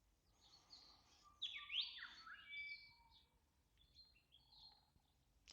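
Birds sing outdoors at sunrise, a few bright chirps and whistled phrases standing out clearly at moderate distance over a quiet background, with no voices.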